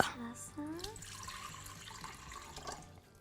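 Lukewarm water pours from a tap or jug into a dough machine while poğaça dough is prepared, a steady close liquid splash running for about three seconds, with a kitchen hum and some clatter underneath.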